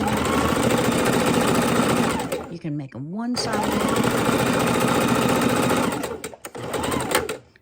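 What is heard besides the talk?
sewing machine stitching felt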